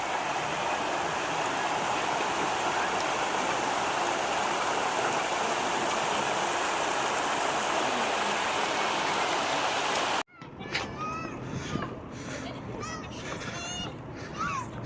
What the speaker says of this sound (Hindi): यहाँ पे है बहता पानी, ये बहुत ही ब्यूटीफुल है।